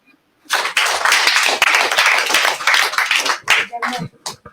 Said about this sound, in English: Clap for Team NUP.